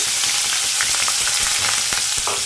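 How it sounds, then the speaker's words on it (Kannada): Chopped onion fries in hot oil with a small piece of cinnamon and two cloves, giving a loud, continuous close-up sizzle and crackle with no voices. "ಇದನ್ನು ಸ್ವಲ್ಪ ಫ್ರೈ ಮಾಡೋಣ."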